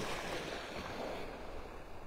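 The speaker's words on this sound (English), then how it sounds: "the water's stir it up again with these little waves" Small waves lap and wash steadily at a Gulf beach at Delnor-Wiggins in North Naples, Florida, a continuous soft surf hiss with light wind on the microphone and no voices.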